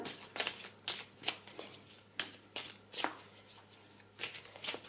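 Tarot cards being handled and shuffled, a quick series of crisp riffling snaps and soft slides at an irregular rhythm, faint and close.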